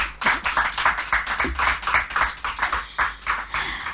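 A studio audience on a TV quiz show claps in a rhythmic, pulsing pattern, with distinct repeated beats of many hands in unison at a moderate distance and no talk over it.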